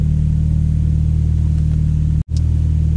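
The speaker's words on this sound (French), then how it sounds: "là on est en phase de chauffe moteur forcément" A Volkswagen Golf 4 GTI engine idles steadily while warming up, a deep, even rumble and low hum, briefly cutting out for a moment near the end before resuming.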